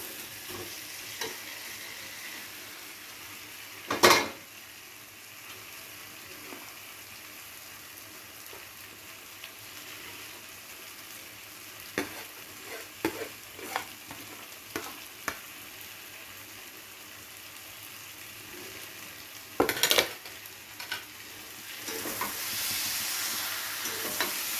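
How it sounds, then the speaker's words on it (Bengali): Potatoes sautéed and stirred with spices in a pan for dimer aloo ghati, a soft steady sizzle with occasional louder scrapes of the spoon, close and fairly quiet. "এবারে আলুর সাথে মশলাগুলোকে খুব ভালোভাবে কষাতে হবে।"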